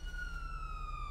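Police car siren in the video game GTA 5, a steady high wailing tone held at moderate distance, fairly quiet and continuous over a low background rumble.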